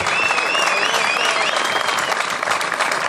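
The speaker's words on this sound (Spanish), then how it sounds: "Non lle aplaudades tanto" An audience at a rally hill-climb award ceremony in Vilar de Barrio claps in a dense, steady burst of applause throughout, close and loud, with a few whistles over it.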